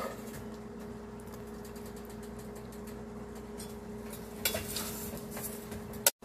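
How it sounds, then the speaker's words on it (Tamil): Coriander and mint being stirred into mushroom biryani masala in a pot, a steady low scraping churn with a faint hum underneath, ending in a couple of louder clinks near the close. "கொரியாண்டர் மின்ட் போட்டு நல்லா மிக்ஸ் பண்ணியாச்சு"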